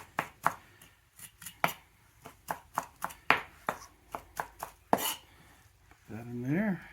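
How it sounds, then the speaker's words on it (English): Fresh cilantro being diced with a knife on a cutting board, a quick irregular series of crisp chops close up, ending with a brief scraping sweep, no voices. "we got some fresh cilantro, so let's get that diced up"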